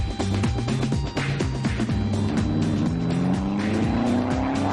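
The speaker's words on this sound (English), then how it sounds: "JJ's aerofoil just hasn't given the Destroyer's car enough downforce at a very high speed in the turn, and the back spun out" A homemade junkyard race car in a 12x12 Grand Prix spins out in a high-speed turn as its rear end loses grip, the engine roaring and revving with a rising pitch and loud tire squeal.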